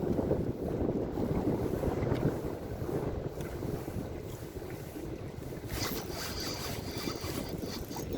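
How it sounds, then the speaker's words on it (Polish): Strong wind blows outdoors while someone is out perch fishing, a steady, close rumbling roar that buffets the microphone for the whole stretch, with no talk. "ogromny wiatr"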